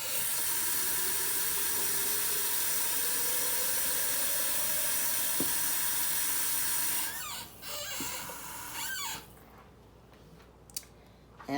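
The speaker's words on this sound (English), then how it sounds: "I'm going to fill up my container of water." Tap water rushing steadily into a container at a kitchen sink, a bright continuous hiss that shifts as the vessel fills, then cuts off around seven seconds, followed by a few faint clinks and handling sounds.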